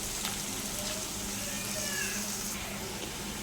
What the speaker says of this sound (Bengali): তেলের মধ্যে আগে যদি রসুনটা দেওয়া হয় না, তাহলে কাঁচা গন্ধটা একদম কেটে যায় রসুনের